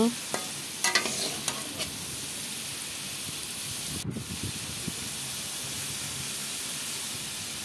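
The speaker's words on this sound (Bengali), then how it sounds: "আলুটাকে লাল লাল করে ভেজে নিলাম।" Potatoes fry in hot oil in a wok, giving a steady broadband sizzle throughout, with a few clinks and scrapes of stirring near the start and around the middle.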